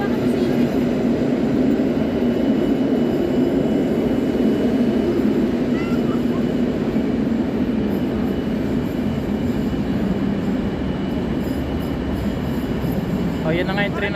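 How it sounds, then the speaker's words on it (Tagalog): A passenger train pulls into a station in Poland with a loud, steady low rumble and rolling wheel noise, and a faint squeal rises near the end. "Parating na po yung train namin."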